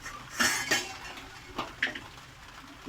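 A lid goes onto a cooking pot of fish, giving a few sharp metallic clanks and clinks close by over quiet kitchen background.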